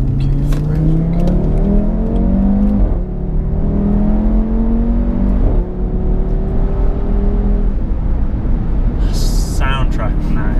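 An Audi RS3 with a sports exhaust accelerates through the gears in automatic drive, its engine note rising in pitch repeatedly, loud and close from inside the car, with occasional voices.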